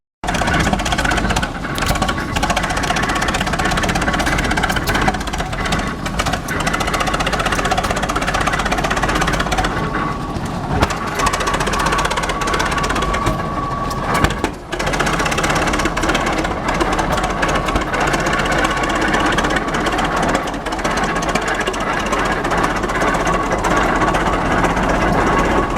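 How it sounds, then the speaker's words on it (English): A rock crusher runs at an outdoor steam show, a continuous loud mechanical clatter and rumble with steady grinding and knocking that fills the whole stretch without a break. "I think they might have the rock crusher going here too"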